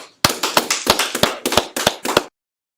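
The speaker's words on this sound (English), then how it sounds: "Let's clap it up." About a dozen sharp, close hand claps come in a quick, uneven rhythm, loud and dry, from a small group at a scripture class, then stop abruptly into silence.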